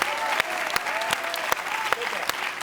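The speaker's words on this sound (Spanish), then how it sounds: "Un aplaudiment pel Javier" A studio audience on a Catalan talk show applauds a guest with sharp, loud bursts of clapping while voices talk over the applause throughout.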